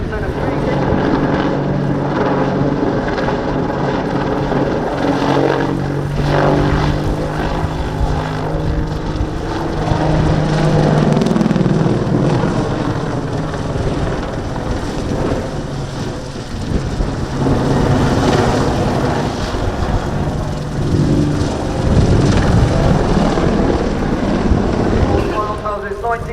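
An AH-64D Apache attack helicopter of the Army Air Corps at an air show, heard close up as a loud, steady rotor and turbine roar that fills the whole clip, with a crowd and voices faintly underneath.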